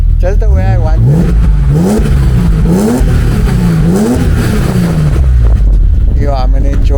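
A BMW 535 engine revs repeatedly through its exhaust, the pitch climbing and falling in several loud, close pulls before settling back, with a few brief voices in the background.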